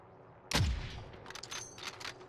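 A single sharp, loud AX50 sniper rifle shot rings out in Call of Duty Warzone, with a booming low tail that fades into lighter clicks and faint rattling.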